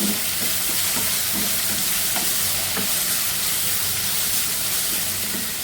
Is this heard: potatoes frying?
yes